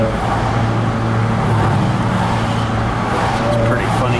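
A Honda car with a loud fart can exhaust passes by, a steady engine and road roar close and loud throughout, with traffic noise around it.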